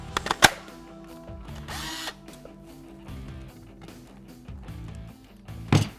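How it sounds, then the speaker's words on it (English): A cordless drill whirs in short bursts and sustained runs, its motor pitch wavering, with sharp knocks and clatter at the start and end and a few faint background noises. "We'll just drill one in here."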